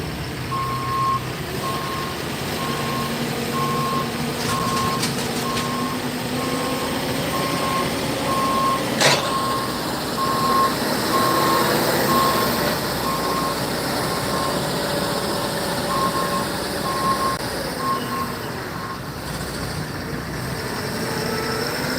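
A truck backs up through a flooded, storm-damaged area after a hurricane in Tampa, Florida, its reversing alarm beeping in a steady, evenly spaced pattern over a continuous engine rumble and outdoor background noise.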